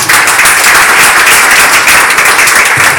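A church audience claps loudly and briskly for about three seconds, a close, dense burst of many hands with no pause.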